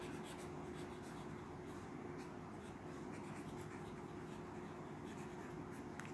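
Pen scratching steadily across paper while accounting notes are written out by hand, a continuous soft friction that runs unbroken with a low background hum and no talk.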